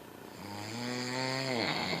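A person snores loudly: one long, drawn-out, strongly tonal snore that swells in volume and cuts off near the end, alone with no talking.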